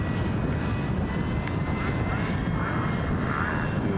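A radio-controlled model airplane drones overhead outdoors, its small engine giving a steady, even whine that holds at constant loudness throughout without voices.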